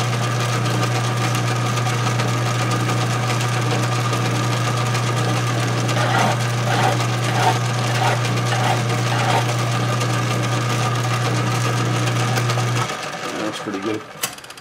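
A metal lathe facing off a metal part for a homemade overhead-valve Briggs engine runs with a steady motor hum and a cutting rasp for about thirteen seconds, with faint rhythmic scraping in the middle, then winds down and stops.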